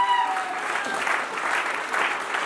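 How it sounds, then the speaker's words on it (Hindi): Audience applause at an agra leaders' gathering, breaking out after a brief tonal note and sustained as steady, dense clapping across the whole stretch. "जोरदार तालियां उनके दमदार तालियां उनके लिए।"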